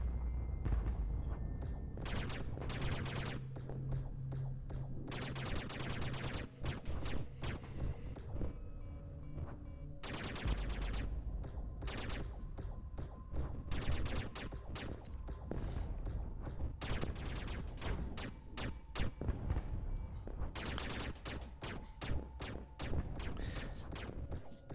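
A weapon fires in the space shooter game Hyper Ultra Astronautics, with rapid bursts of synthetic gunfire and explosions that pause now and then over a continuous electronic backdrop.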